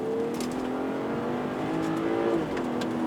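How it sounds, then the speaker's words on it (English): A BMW 540i xDrive (G30) engine revs high during a night drive, a steady rising tone held for several seconds before easing off, heard close from inside the car with no talk. "have it in automatic just in order to hear it really rev out"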